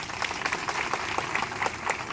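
A crowd at a Christian community gathering applauds steadily, a dense wash of clapping at moderate volume that carries on throughout.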